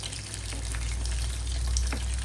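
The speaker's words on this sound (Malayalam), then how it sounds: "നമ്മള് ദേശത്തെ സ്പെഷ്യൽ മസാലയിൽ വറുത്തെടുക്കുന്ന ചിക്കൻ ഫ്രൈ" Chicken frying in a spiced masala for biryani gives a steady, moderately loud sizzle with a low rumbling hum underneath, continuous for a couple of seconds without talk.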